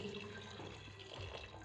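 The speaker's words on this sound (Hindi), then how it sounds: "तो अब इसमें हम डालेंगे पानी" Water pours steadily into a pressure cooker holding soaked chickpeas, a close, continuous splashing gush with no talking.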